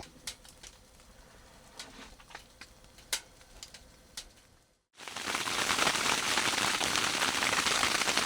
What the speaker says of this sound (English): I woke up with this heavy rain.